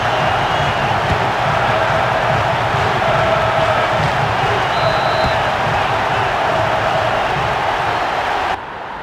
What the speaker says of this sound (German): Es gibt verdientermaßen Applaus.